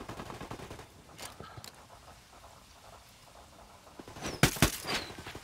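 Cartel fighters shooting each other in Ghost Recon Wildlands, heard as scattered distant gunshots early and then a louder, closer burst of shots near the end.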